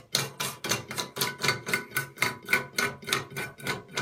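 Plastic lock nut being screwed by hand onto a toilet cistern flush mechanism, a rhythmic series of about fourteen ratcheting, scraping clicks in quick, even succession, close and fairly quiet.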